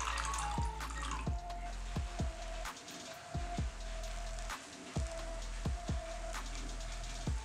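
Water poured into an aluminium foil tray on a gas stove, with repeated distinct drips and splashes landing over a steady low burner hiss, close and fairly loud.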